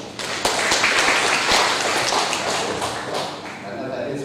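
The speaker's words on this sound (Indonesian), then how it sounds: "Kita beri aplaus dulu untuk generasi muda ini." An audience at an irrigation modernisation training session in Indonesia applauds the young generation, steady dense clapping that fills the room and fades toward the end.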